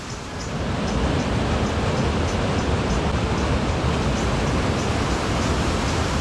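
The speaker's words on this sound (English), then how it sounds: "The flowing water is cooling" Waterfall in Northern Thailand, a steady broadband rush of flowing water holding loud and even throughout, with no voices over it.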